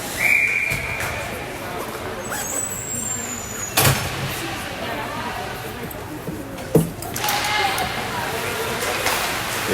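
A referee's whistle at a U22 elite women's ice hockey championship game, a brief high shrill blast early on, heard amid arena crowd noise and rink sounds, with a commentator talking over it.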